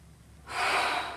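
A single sharp, forceful breath is drawn in close to the mic after a moment of quiet, hissing loudly for about half a second, during a dumbbell shoulder exercise.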